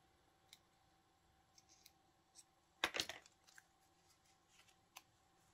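Scissors snip through paper for a crossword-puzzle collage, a few faint, scattered cuts with one louder, sharper burst of snipping near the middle, close by in a quiet room.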